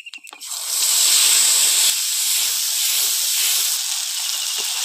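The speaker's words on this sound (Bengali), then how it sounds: "এবার এই মিশ্রণটা দিয়ে দেবো তেলের মধ্যে।" Whole cumin, chillies and whole garam masala hit hot oil with a sudden loud hiss that settles into a steady, bright sizzle, close and continuous, after a couple of quick clacks at the start.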